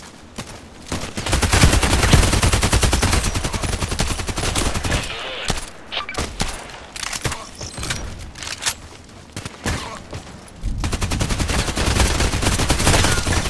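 Rapid bursts of submachine gun fire from an H&K UMP45 in the shooter game Contract Wars, loud and near, rattling in dense strings with a short break in the middle before firing resumes.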